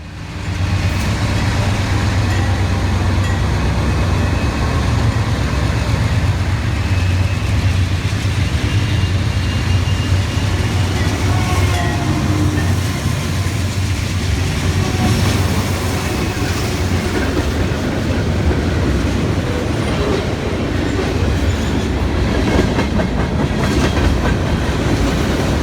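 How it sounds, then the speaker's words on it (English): Pan Am freight trains roll past Andover Station in a snowstorm, a loud, steady rumble of engines and rail cars with continuous wheel clatter sustained throughout at close range. "Two Pan Am trains meet in a snowstorm at Andover Station"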